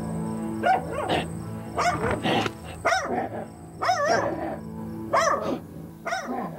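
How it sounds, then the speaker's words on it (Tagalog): A dog barks repeatedly in short bursts, fairly close and loud, with brief pauses between barks. "Tahol ang tahol."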